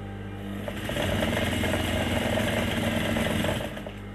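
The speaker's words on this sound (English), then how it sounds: "I'm sorry you are not seeing what I'm doing, but I'm just sewing." A sewing machine runs steadily while stitching a French seam, a close, continuous mechanical whir that speeds up after a second, holds an even pace, then slows at the end.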